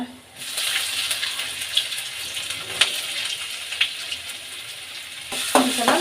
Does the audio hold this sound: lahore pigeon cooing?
no